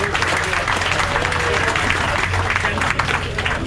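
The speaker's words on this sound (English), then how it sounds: "a nice round of applause for our captain, hotel manager, and our newly engaged couple" Passengers applaud aboard a Viking river cruise ship, honouring the captain, hotel manager and an engaged couple; steady clapping with crowd murmur and a low hum underneath.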